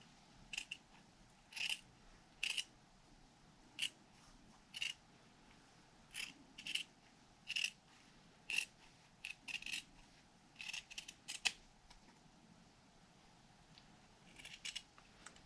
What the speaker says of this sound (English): of course you can use any scissors that you want to cut your fabric